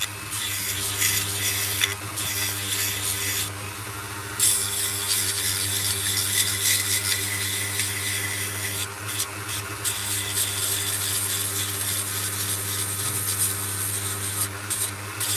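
Steady scratchy rubbing of sandpaper on a wood carving, continuous and close, over a constant low mechanical hum, with no talking.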